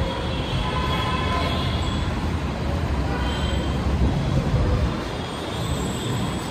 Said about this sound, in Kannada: ಇವಾಗ ಮೆಟ್ರೋಗೆ ಬಂದು ರೀಚ್ ಆಗಿದ್ದೀವಿ